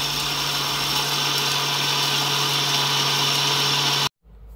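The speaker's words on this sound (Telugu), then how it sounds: "ఇవన్నీ చల్లారిన తర్వాత మనం మిక్సీ జార్లోకి తీసుకొని మిక్సీ పట్టుకోవాలి." A mixer grinder powders roasted rice for homemade baby cereal with a loud, steady high-pitched whir that cuts off abruptly near the end.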